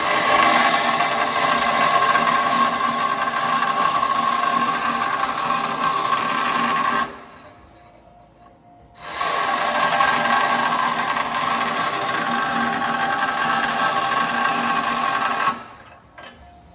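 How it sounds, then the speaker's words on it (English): A bandsaw cuts through the metal of an FJ40 body with a loud, steady grinding whine, running about seven seconds, pausing briefly, then resuming for another long pass before stopping. "And we'll bandsaw this off and leave the line."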